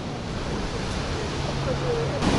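Storm waves surge against the Alushta seafront, a constant loud rush of churning surf mixed with wind noise across the microphone, with a voice faintly underneath.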